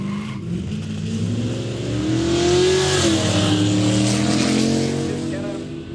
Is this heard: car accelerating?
yes